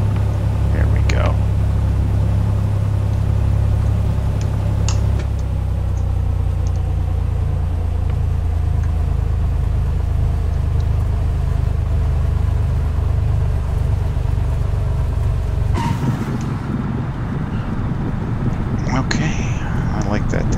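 Small aircraft engine droning through a landing and touchdown, a loud, steady low rumble that shifts in tone near the end, with a voice heard over it.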